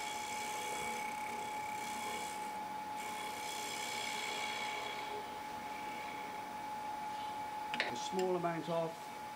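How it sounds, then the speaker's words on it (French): A wood lathe runs with a steady whine and hum as a Sorby scraping tool takes a light pass to clean the bottom of a bowl. The sound holds evenly close by, and a brief voice-like burst rises near the end. "Une passe raclée pour nettoyer le fond, parce qu'il va utiliser cette prise comme pied de son bol."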